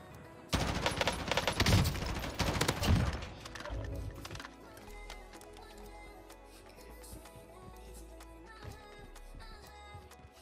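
Rapid weapon fire in the video game Call of Duty Warzone, a loud dense burst of shots in the first few seconds, then fading into quieter game sounds and music.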